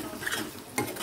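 A utensil stirs ginger paste and chili powder sizzling in a pan for a dried prawn curry, a brief close scraping with a soft frying hiss beneath and a sharper scrape near the end.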